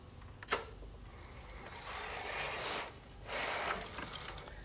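Brother KH 950i knitting machine carriage pushed across a row, two long rasping mechanical sweeps with a short pause between, preceded by a sharp click, fairly quiet with no talking.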